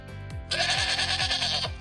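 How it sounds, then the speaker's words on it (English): A sheep out in a sunny field gives a single drawn-out wavering bleat, near and clear, preceded by a brief quieter sound and with no voices. "Sheep loves to run and play in the sunny field."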